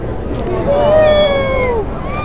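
A young kitten at a Hello Kitty expo gives one drawn-out, wavering meow near the middle, heard close over a steady crowd hubbub and chatter.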